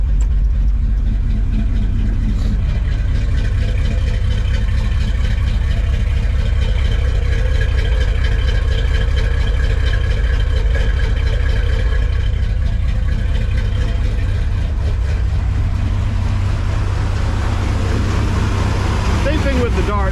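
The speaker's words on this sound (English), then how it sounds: "With the Dart, I just love how quiet the engine compartment is." A Dodge Dart's engine idles steadily after a cold start, a constant low rumble filling the whole stretch while someone talks over it.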